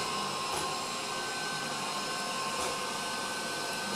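A Cecotec Conga 7090AI robot vacuum cleaner runs with a steady, even whirring hum and broadband hiss, and a few faint bumps occur as it moves.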